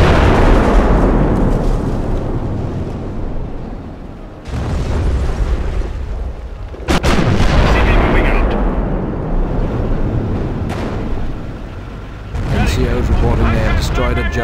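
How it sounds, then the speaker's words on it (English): Royal Artillery HE round barrage from Company of Heroes, with heavy booming explosions rolling one after another across the whole stretch, loud and close, crackling debris tails between blasts, and soldiers' voices shouting over the shelling. "HE round barrage. Fire over."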